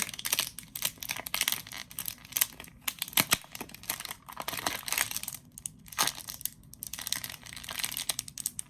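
Plastic wrap and packaging on a music album crinkle and tear in close, irregular bursts of crumpling and ripping with no voices.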